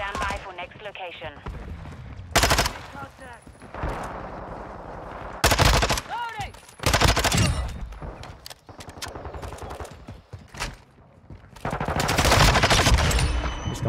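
Vaznev-9K submachine gun fire in the video game Modern Warfare 2: repeated loud bursts of rapid automatic shots with sharp cracks, separated by brief pauses amid game background sounds.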